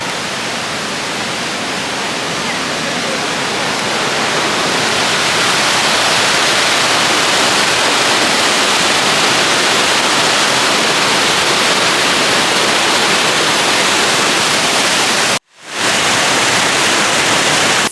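Dense, roaring rush of a waterfall at Whatcom Falls Park, Washington, steady and loud throughout, with a brief cut to silence near the end.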